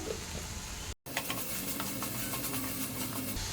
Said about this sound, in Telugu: ఈ టమాటాలు మగ్గేంత వరకు ఉడికించుకోవాలి